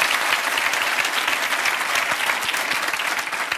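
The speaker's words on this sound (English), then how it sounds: "give a big round of applause" Studio audience on a television quiz show claps in a loud, continuous round of applause, dense and even from start to finish.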